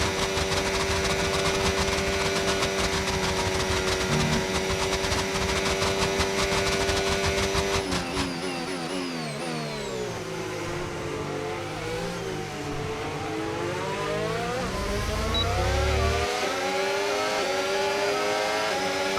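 F1 25 race car engines in a league race, a continuous high-pitched whine with gear shifts and rising and falling revs while drafting behind a McLaren, loud and close throughout.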